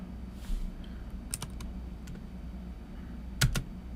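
Sparse, quiet keystroke clicks from a computer keyboard as code is typed, a few isolated taps and a short burst near the end over a low steady hum.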